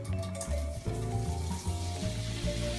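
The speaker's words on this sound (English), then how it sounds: "When you get that sizzle," Sausage sizzles in 3 or 4 tablespoons of hot olive oil in a pot for Cajun jambalaya, a close, continuous frying crackle broken by the thumps and scrapes of a wooden spoon stirring.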